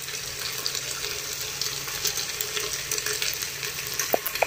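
Carrot, potato and coriander being stirred in a pan, with a steady low sizzle and frying hiss throughout and faint scraping stirs, plus a couple of brief clinks near the end.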